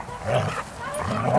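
Doodle poodle puppies playing in a yard give a couple of short, close yips and barks, with light background noise between them.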